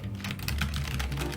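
Close, rapid keystrokes clatter steadily on a Logitech G913 TKL low-profile mechanical gaming keyboard, a dense run of clicks and taps with no voices.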